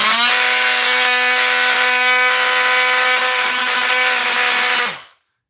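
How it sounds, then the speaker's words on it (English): A brushed Milwaukee multi-tool that is overheating runs close and loud with a steady high-pitched buzzing whine, then cuts off abruptly near the end, with no voices. "This is a brushed Milwaukee multi-tool."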